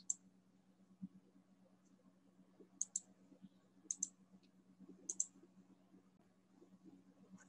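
Computer mouse clicks and keys tapped while typing, a few sparse, crisp clicks, some in quick pairs, over a low steady hum.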